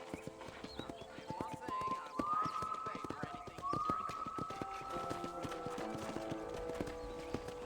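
Steady clip-clop of horse hooves in a quick rhythm, with a whinny partway through and a voice speaking over the hoofbeats, at a ranch in the video game Red Dead Redemption.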